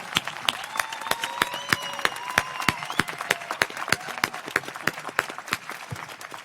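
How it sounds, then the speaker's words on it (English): An audience applauds a chorus of Ukrainian students at a university forum, with sparse, distinct claps at a loose, uneven rhythm, some near and sharp, over a faint room background. "Let's give them another huge round of applause."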